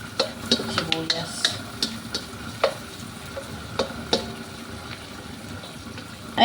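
Onion, garlic and ginger sauté in a pan for dinuguan, a soft sizzle under repeated clinks and scrapes of a spoon stirring, with water-like bubbling in the background.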